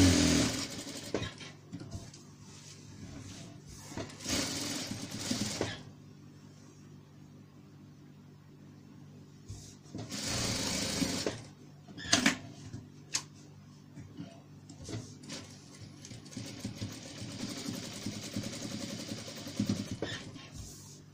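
Sewing machine stitching a pillowcase seam, short bursts of fast, rattling stitching separated by quiet pauses, fairly faint and up close.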